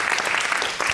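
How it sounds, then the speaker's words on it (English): A studio audience at a televised cost-of-living debate in Sunderland bursts into applause, a dense, steady crackle of many hands clapping close by for the full second. "Clap if you agree with that."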